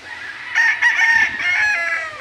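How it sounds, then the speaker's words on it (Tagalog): A farm rooster crows once close by, a loud drawn-out call with a rising start and a trailing end, heard alone with no talk. "Ito po yung mga manok ni Boss."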